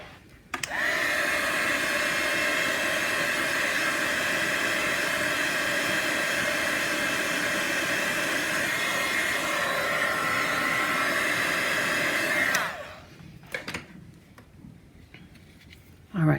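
A heat tool blows steadily for about twelve seconds, drying wet Distress ink on a craft page, a loud even whooshing roar that then cuts off, leaving quiet handling noises.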